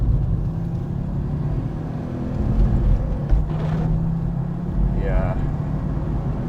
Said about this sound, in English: they've deliberately kept the power of this engine down so that the turbo delivers instant, lovely power